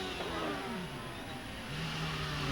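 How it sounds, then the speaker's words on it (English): Onboard a CART race car at about 185 mph in top gear through a right-hand kink: a loud, sustained engine howl with a steady pitch, plus faint wind rush, and no voices. "This is going through the 185 mile an hour right-hand kink up in top gear."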